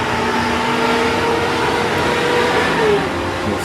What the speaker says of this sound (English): a really loud truck going by.